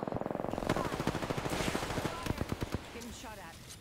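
Rapid automatic gunfire rattles through a video game battle, starting as a fast steady burst and breaking into irregular shots, with voices talking over it.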